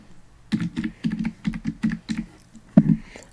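Bursts of rapid clicking on a computer keyboard, several quick runs of keystrokes separated by short pauses, close and clear with no talking.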